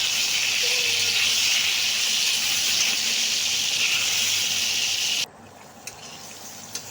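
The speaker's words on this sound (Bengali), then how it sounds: "পটলগুলোকেও ভালোভাবে ভেজে নেব।" Pointed gourd pieces sizzle in hot oil left from frying potatoes, a loud, steady hiss that runs unbroken for about five seconds and then cuts off abruptly, leaving quiet room noise.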